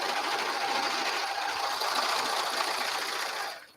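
Sewing machine running continuously while stitching a fabric headband, a dense buzzing whir at steady speed that stops abruptly at the end.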